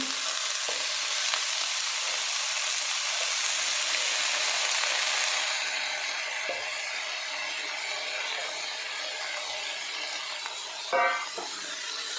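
Finely chopped spinach fries in a pan, a continuous bright sizzle throughout with a few soft knocks and one short clatter near the end, no talking.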